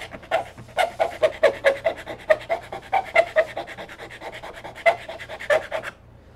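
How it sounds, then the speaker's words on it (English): A hand file rasps a curved socket into a part of a 1:350 scale Star Trek TOS destroyer class starship model, in quick, rhythmic, close back-and-forth strokes. "we're going to file a little bit in the center of this thing to make sort of a little bit of a curve for that socket"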